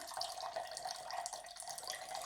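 Water poured for lemonade, a quiet, steady trickling stream into a vessel that runs without a break, close up and with no talking.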